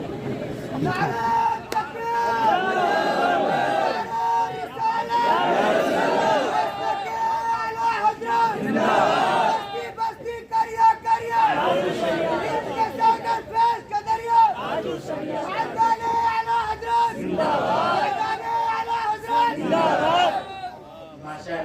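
A crowd at a religious speech gathering shouting responses to chanted slogans, loud bursts of massed voices rising and falling in repeated waves, with a lead voice calling between them.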